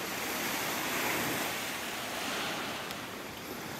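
Steady wash of ocean surf rolling onto a beach in North Naples, Florida, a constant broad hiss with gentle swells and a little wind on the microphone, no voices.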